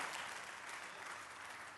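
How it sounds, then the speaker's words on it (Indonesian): A church congregation claps briefly during a sermon, a short burst of fairly faint crowd applause with no talking over it. "Tepuk tangan bagi Allah kita."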